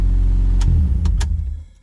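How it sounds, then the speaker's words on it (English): A car engine idles with a steady low rumble, with a few brief clicks over it, and the rumble fades out near the end. "But at least I got the car running."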